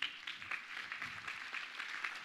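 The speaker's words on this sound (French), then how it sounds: "Je crois qu'on peut applaudir Alain Malardé" Audience applause at an innovation award ceremony, a steady mass of clapping held at a fairly even level for a couple of seconds, with no talking over it.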